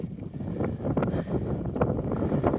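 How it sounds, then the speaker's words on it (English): Steady wind buffeting the microphone on an exposed high spot along the Appalachian Trail, a continuous rough rumble with gusty swells and no voices. "It is windy."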